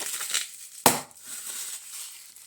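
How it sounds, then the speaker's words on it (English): One sharp, loud pop of bubble wrap packaging from a Life Wireless X444 Drive II unboxing, a single burst standing out over a quiet, rustly room before quickly fading. "What a packaging, this bubble wrap is popped."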